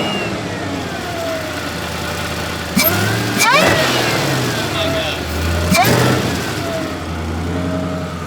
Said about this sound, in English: the blower's really loud now too, especially with the export